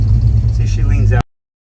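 Car engine fitted with a Holley Sniper EFI, run at high throttle while leaning out, gives a loud, deep rumbling roar for about a second before cutting off abruptly into silence.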